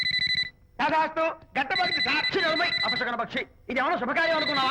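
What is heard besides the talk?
telephone ringing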